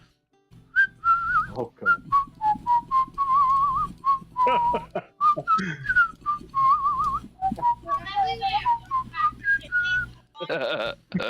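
A person whistles a familiar melody for several seconds, the notes clear and fairly close, with a short spoken word near the end.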